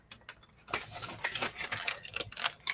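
Scissors snipping through the plastic of a bag of frozen mixed vegetables, a rapid run of crisp close clicks and crinkles lasting a couple of seconds after a short quieter start.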